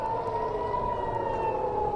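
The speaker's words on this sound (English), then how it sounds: "Sirens went off again." An air raid siren sounds in Israel during an Iranian attack, a steady sustained wail heard at a distance, faint and continuous with no voices over it.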